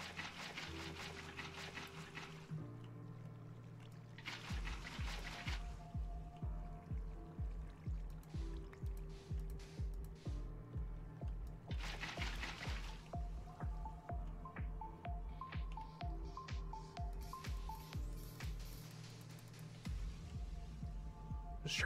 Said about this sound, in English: we want this whole level right here to be filled with water.